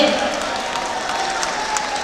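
Audience at an evening poetry gathering of ghazals and songs applauds, a steady continuous clapping that stays even throughout the short stretch.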